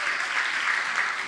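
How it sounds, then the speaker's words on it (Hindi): Dense, steady applause from an audience for a Delhi government school orchestra performance, loud and continuous throughout. "हाथ ऊपर करके जोरदार ताली इन बच्चों के और दिल्ली के सरकारी स्कूल के इस ऑर्केस्ट्रा की बेहतरीन"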